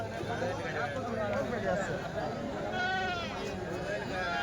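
Goats bleating at the Kadiri weekly sheep and goat market, several wavering cries rising over a busy murmur of crowd chatter and nearby talk.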